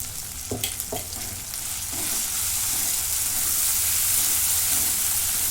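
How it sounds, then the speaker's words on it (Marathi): Coconut and coriander masala sautéing in a pan, with a steady crackling sizzle that swells slightly as it goes, plus a few soft stirring knocks near the start. "ते परतून घेते आता मसाला परतून झाला आहे"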